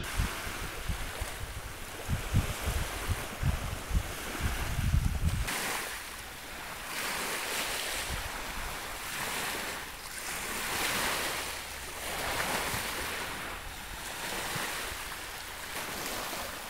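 Waves roll and wash onto quiet Enabara beach in a steady repeating surge, with gusty wind rumbling against the microphone during the first few seconds and no voices.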